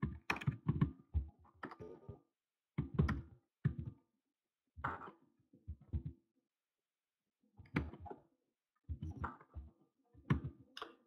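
Typing on a computer keyboard, close, in quick bursts of clacking keystrokes separated by short silent pauses, with no voices over it.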